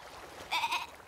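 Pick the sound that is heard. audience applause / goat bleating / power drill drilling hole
goat bleating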